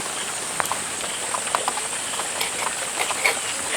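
Milk boiling in a pot on the stove gives a steady steamy hiss dotted with small pops and crackles, close and moderately loud, with no voices.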